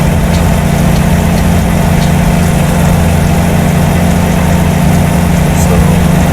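A truck engine from a video game engine-sound mod idles loudly and steadily, with a constant low rumble that never changes and no pauses.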